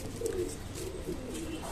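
Old pigeons on a rooftop coo softly in low, rolling phrases, faint and a little distant against a steady background hum.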